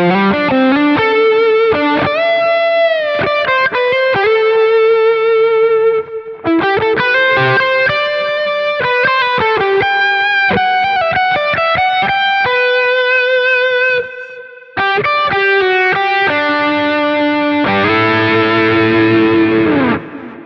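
Electric guitar lead played through the Archer Icon preset on a Quad Cortex, aiming at a specific player's tone: sustained, singing overdriven notes and fast runs, loud and continuous with two brief pauses, no voices.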